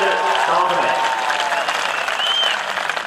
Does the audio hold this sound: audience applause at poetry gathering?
yes